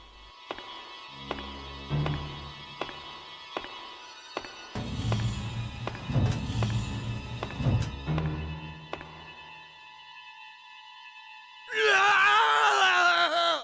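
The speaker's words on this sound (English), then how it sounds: "He stumbles out the door and lets out a scream." A character in the PS1 horror game ...Iru! lets out a harsh scream at the end, preceded by rhythmic percussive hits and droning synthetic tones from the game soundtrack.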